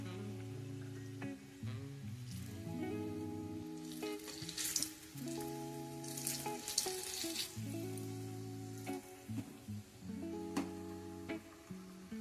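Medu vada, urad dal fritters, fry in oil over low heat with a soft crackling sizzle, partly covered by loud overlapping music.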